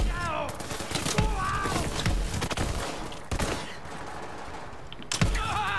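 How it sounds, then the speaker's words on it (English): Gunfire in the shooter Borderlands 3, sharp clustered shots cracking in irregular bursts over busy game sounds, with voices heard in between. "Are you the one shooting me?"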